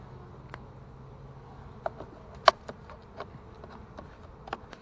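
Honeybees from a package being installed into a hive buzz faintly in an outdoor bee yard, scattered soft drones punctuated by a few sharp clicks and taps, fairly quiet overall with no talk.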